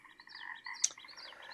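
An American toad calls as a soft trill of several notes, with one sharper chirp in the middle, set against a quiet, faint background.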